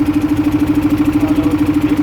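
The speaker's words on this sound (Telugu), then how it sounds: "పెద్ద బోటు ఉంది గంగానదిలో. చాలా పెద్ద బోటు" A large boat's engine on the Ganges at Varanasi drones loud and close, a steady idling-type rumble with a fast, even pulsing throb running unbroken throughout, with no voices.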